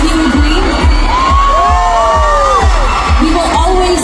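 A packed fan meet crowd in Manila for Cha Eun Woo yells, screams and cheers in a loud, continuous roar, with high shrieking voices rising and falling above the din.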